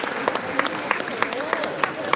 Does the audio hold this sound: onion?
no